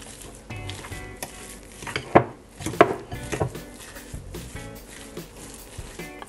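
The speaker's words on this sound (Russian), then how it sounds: "Теперь я добавляю курагу к творогу" Cottage cheese and dried apricots are mixed in a bowl, with soft, irregular scraping and stirring and a few sharp clinks of a utensil against the bowl, close and fairly quiet.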